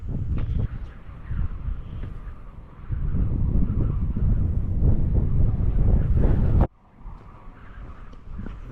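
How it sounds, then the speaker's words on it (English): Strong wind gusting across a desert hiking trail to Cassidy Arch in Capitol Reef National Park, Utah, a loud rumbling buffet against the microphone that swells and eases, then cuts to a quieter stretch near the end. "The wind is really blowing out here."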